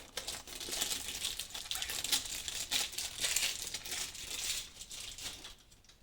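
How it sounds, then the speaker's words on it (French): A Yu-Gi-Oh Speed Duel GX card pack's foil wrapper is torn open, a close, continuous crinkling and crackling of plastic for several seconds that fades out at the end. "Si j'arrive à ouvrir ce paquet"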